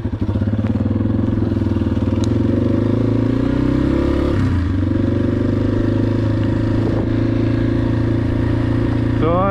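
A Yamaha XT250 motorcycle engine drones loud and close during a ride, holding a steady throbbing hum with slight pitch shifts as it rolls along.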